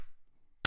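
A single sharp hand clap, close and crisp, coming after a brief near-silent pause.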